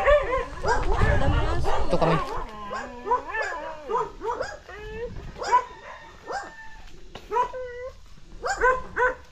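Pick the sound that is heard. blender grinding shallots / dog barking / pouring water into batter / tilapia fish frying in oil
dog barking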